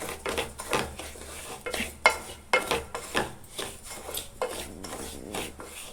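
Semolina (rava) roasting in ghee for rava kesari, stirred with a metal spoon against the pan: repeated close scraping and clinks in an uneven rhythm, with a faint sizzle underneath.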